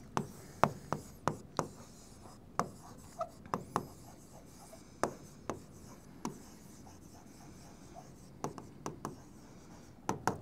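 Pen strokes while working out a Class 10 quadratic equation, a series of short, sharp scratching taps at an uneven rhythm, close and fairly quiet, with no talking.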